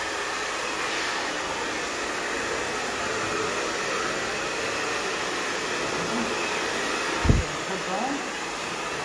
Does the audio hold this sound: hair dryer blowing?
yes